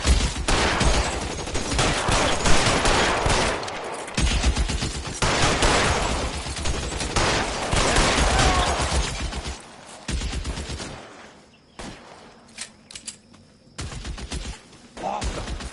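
Heavy video-game gunfire from the L.A. Noire detective game, dense bursts of shots for about ten seconds, then sparser scattered single shots with gaps of quiet, loud and close.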